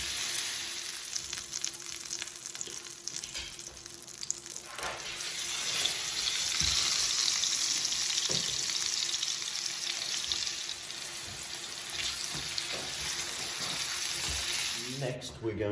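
Chicken pieces sear in a frying pan for a chicken and brie pie, giving a steady broadband sizzle that runs the full length, loud and close, with faint clatter and occasional stirring knocks.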